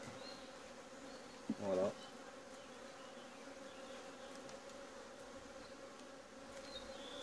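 Honeybees buzz steadily around a Langstroth hive holding a swarm, a dense continuous drone close by, with a brief louder burst as one flies near the microphone and a short spoken word.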